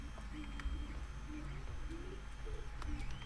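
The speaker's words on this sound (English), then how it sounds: "Sounds like a bird." A bird in the video game Infected Maze gives soft repeated coos under a low ambient drone, faint and somewhat distant.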